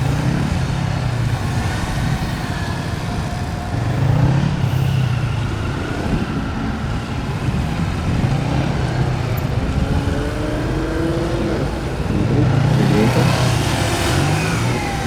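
A Kawasaki Z500 motorcycle at a gymkhana competition revs and accelerates through a timed run, the engine note rising and dropping repeatedly as it weaves, loud and fairly close throughout.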